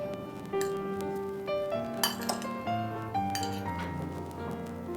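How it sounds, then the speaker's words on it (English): A spoon clinks and scrapes around a bowl while chopped green chilies, salt and chaat masala are mixed into an uttapam topping, giving a steady run of light metallic taps and chinks at close range. "Time to mix our last topping."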